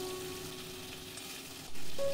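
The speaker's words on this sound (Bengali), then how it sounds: "এবার দিয়ে দিলাম রসুন," Garlic, capsicum and tomato frying in a pan for a Bengali potato curry, a steady close sizzle that swells louder near the end as the vegetables go in, with no voices.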